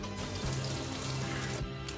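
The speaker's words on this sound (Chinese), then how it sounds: "先把油菜洗一下，" Rapeseed greens washed under a running kitchen tap, a steady close splashing rush of water that briefly dips near the end.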